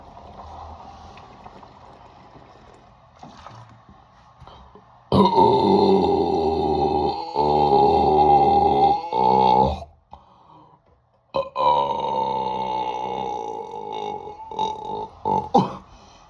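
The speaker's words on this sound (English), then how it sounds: "Man, I burped again." A man lets out long, loud, deep burps after chugging a two-liter Diet Coke, two drawn-out belches separated by a short pause, close to the microphone with no talking.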